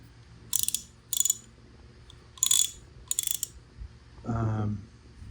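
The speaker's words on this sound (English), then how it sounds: "We got a 1/2-inch pear-headed ratchet." A 1/2-inch pear-head ratchet made by Flea clicks in four short, crisp bursts of rapid close ratcheting, followed by a brief low thud and a short voice.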